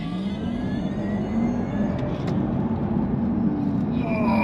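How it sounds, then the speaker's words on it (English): A Porsche Taycan Turbo S electric car launches hard under launch control, its steady rising motor whine and road rumble building continuously throughout, close and loud, with no engine roar. "Launch control is now activated. I just need to release the brake. Put my head back, and here we go."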